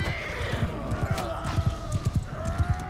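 Rapid hoofbeats of horse riders thunder under a busy game soundscape in Mount & Blade II: Bannerlord, with horses neighing and a voice talking over the galloping.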